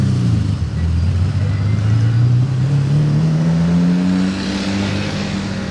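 A Lamborghini Aventador SVJ's V12 revs loud and close, its deep engine note climbing steadily in pitch over several seconds before easing off slightly near the end.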